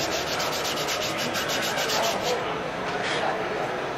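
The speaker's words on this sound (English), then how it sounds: "so I'll give it a little sanding." Wood being hand-sanded in a Michigan feather stamping craft: a close, steady rasping rub with rhythmic strokes throughout.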